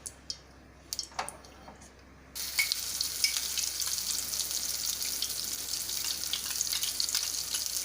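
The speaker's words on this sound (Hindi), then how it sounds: "ऑयल गर्म हो जाए तो इसमें मैं जो टमाटर, प्याज और काजू के पेस्ट है ना, वो मैं डाल रही हूँ" Tomato, onion and cashew paste drops into hot oil for kadai paneer, a few clicks and taps giving way to a sudden steady sizzle that continues close and constant.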